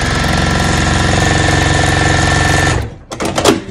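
A sewing machine runs steadily, stitching through two quilt layers without a walking foot, a loud, even mechanical whir that stops abruptly, followed by brief clunks and rustling.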